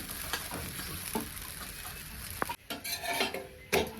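Soft sizzling of a millet-flour and cabbage thalipeeth flatbread roasting on a hot oiled griddle, with occasional scraping and clinks of a utensil, steady and close.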